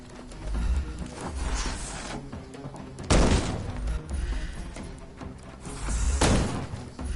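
Gunfire in the Sherlock Holmes: Chapter One video game: a few heavy, booming shots spaced several seconds apart over a rumbling ambient background, loud and close, with no talk.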